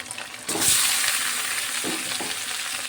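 Chicken hits a pan of hot oil holding reddened onion, fried bay leaves and chopped tomato, and the sizzle surges abruptly into a loud, steady hiss, punctuated by a few stirring scrapes.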